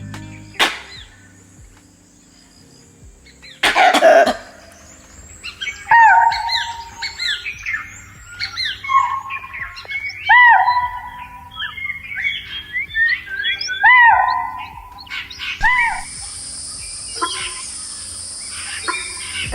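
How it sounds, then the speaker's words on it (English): Wild birds giving alarm calls, a long run of sharp repeated squawks and chirps in quick bursts, fairly close and loud, with a sudden loud knock partway through and a high buzzing tone near the end. "there will be birds and even squirrels making alarm calls"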